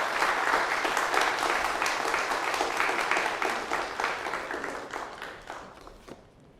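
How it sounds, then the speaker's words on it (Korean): Church congregation applauding at a Sunday worship service to welcome a university president to the pulpit, sustained dense clapping from a large crowd that gradually thins and fades toward the end. "총장님 나오실 때 여러분 크게 박수로 환영하시겠습니다."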